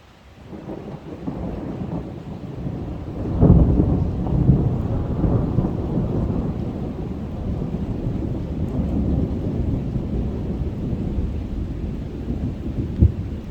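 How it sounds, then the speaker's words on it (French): A moderate thunderstorm in the Grenoble Alps rumbles steadily with heavy rain pouring throughout, and a sharp crack of thunder comes near the start. "On va laisser l'orage faire son délire, d'accord?"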